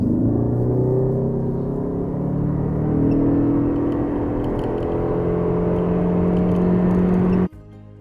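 A car with a four-cylinder 2.5-litre hybrid engine accelerates hard during an acceleration test, a loud sustained engine drone and whir rising in pitch for about seven seconds before cutting off sharply.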